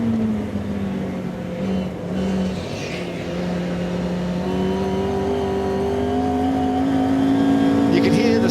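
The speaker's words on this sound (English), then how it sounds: "A little dab on the throttle, and then when it gets the feeling right, full throttle." A race car at the Goodwood Members' Meeting works through a corner on careful throttle, its engine droning steadily with rising pitch as the power comes in, heard from a distance under continuous commentary.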